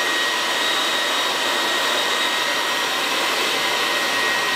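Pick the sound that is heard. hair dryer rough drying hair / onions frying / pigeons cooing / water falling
hair dryer rough drying hair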